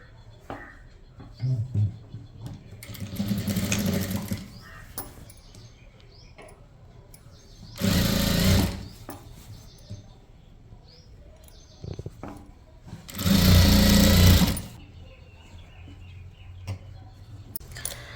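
A sewing machine stitches the folded hem of a chudithar top in two short, loud bursts, with quieter handling and faint tapping in the gaps between runs.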